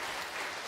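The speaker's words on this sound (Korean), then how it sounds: "우리 박수로 환영합니다" Church congregation at a Sunday worship service clapping to welcome newcomers, a brief burst of dense, even applause from many hands.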